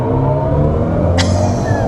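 A BMW i7 M70 electric car launches hard from a dead stop, a loud, close, deep rumbling surge of motor and road noise with one sharp brief hiss near the end.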